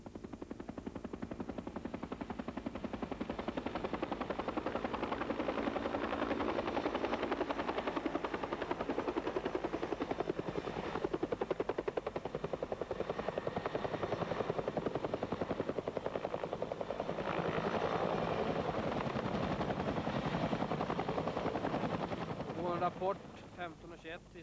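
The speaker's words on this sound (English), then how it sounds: "The UN personnel have at their disposal a helicopter for medical evacuation." A UN medical evacuation helicopter used by Swedish troops in former Yugoslavia makes a loud, continuous rotor throb and engine roar that holds for about twenty seconds before easing off, while someone speaks over it.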